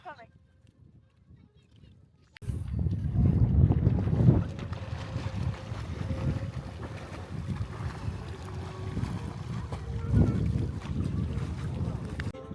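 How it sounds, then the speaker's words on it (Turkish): A boat motor churns steadily at sea off Çeşme, Turkey, with wind buffeting the microphone, starting after a quiet moment and continuing loud throughout; no one speaks. "teknede Makarel Bey beraberiz"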